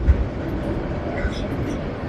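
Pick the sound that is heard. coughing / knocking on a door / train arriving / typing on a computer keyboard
train arriving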